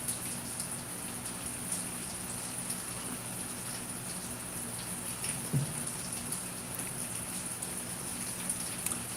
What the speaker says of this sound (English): I can hear the water coming off the roof.